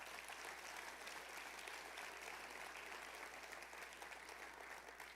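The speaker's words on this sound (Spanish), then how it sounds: "Un aplauso al Señor por ello." Congregation clapping in a church during a sermon, a continuous, even wash of applause heard faintly with a low steady hum beneath it.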